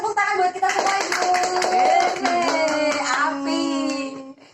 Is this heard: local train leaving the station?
no